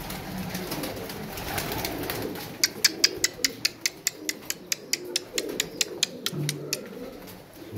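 Pigeons being fed grain: low soft cooing in the background, then a fast run of sharp rhythmic clicks or pecks close by, with no talking.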